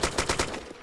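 Gunfire in a first-person shooter video game: four sharp, evenly spaced shots ring out close and loud, followed by a few quieter, more scattered pops.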